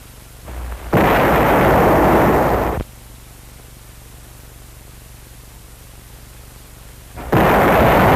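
Bazooka fired during 1950 infantry division field training, a sudden loud blast-like roar holding for about two seconds, then a lull, and another loud burst starting near the end.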